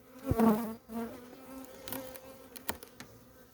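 Honey bees buzz around a single frame from a nucleus hive, a steady close hum with a louder burst near the start and a few sharp handling clicks, no talk.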